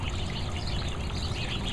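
Water trickling steadily in a backyard pond, a continuous close, even splashing flow with no breaks and no talk.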